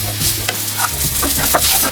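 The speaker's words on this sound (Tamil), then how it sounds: "அடுத்து வெங்காயத்தை போட்டுக்கலாங்க" Onions tossed into hot oil already holding green chillies and curry leaves, a loud close sizzle with brief stirring scrapes, short and continuous.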